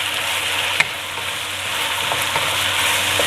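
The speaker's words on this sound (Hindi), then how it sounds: "इसकी फुल आंच पे आपने इसकी मिक्सिंग कर लेनी है" Fried chicken stirred into sauce over full heat for orange chicken: a steady, loud sizzle close up, with a sharp spoon knock early on and faint scraping stirs.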